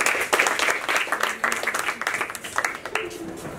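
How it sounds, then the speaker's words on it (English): Classroom students clapping for a group after a chemistry presentation, a dense burst of hand claps running throughout with a few voices mixed in. "Thank you. Clap for them."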